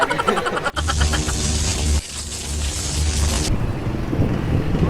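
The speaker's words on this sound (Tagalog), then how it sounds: "Malamig yung hangin tsaka medyo mahangin na rin." Loud, cold wind in Antipolo, Philippines buffets the microphone with a rough, roaring rush, over a low rumbling background and shifting noise.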